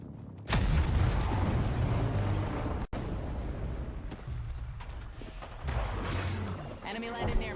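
Enemy gunfire in a battle royale video game: heavy booming shots and rumbling blasts over continuous battle noise, one sharp crack near the middle, with a faint voice at the end.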